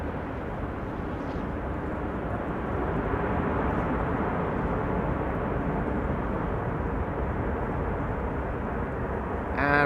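A Boeing 747 or Airbus A380 airliner landing at Schiphol roars with thrust reversers, a broad steady rumble that swells slightly and holds loud and near for the whole stretch.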